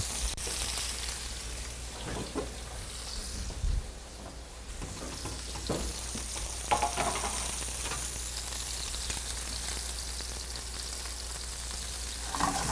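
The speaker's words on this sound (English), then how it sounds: "You want a nice, really brown crust on this, and then we're going to finish them in the oven." Grass-fed Illinois steaks sear in a hot pan, giving a steady, close crackling sizzle broken by a few brief clatters as the meat is stirred.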